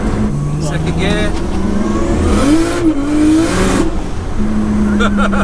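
A 700bhp Nissan R33 Skyline accelerates hard in second gear, its loud engine note rising steadily and dipping briefly at a shift point before climbing again, heard from inside the car with people talking over it.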